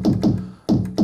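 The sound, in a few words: pure pulse part of a drum synth attack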